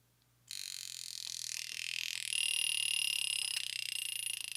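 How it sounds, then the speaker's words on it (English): A 1949 Vulcain Cricket alarm wristwatch rings with a rapid buzzing rattle as its hammer strikes the gong, loud and close, starting abruptly and continuing steadily for several seconds. "If you set off the alarm, you can really hear when that hammer is hitting that sweet spot."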